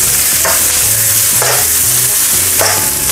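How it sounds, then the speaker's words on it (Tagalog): Onion sautéing in hot oil in a pan, a steady loud sizzle broken by a few scraping stirs of the spatula, with no talking. "Gisa lang po natin ang ating sibuyas."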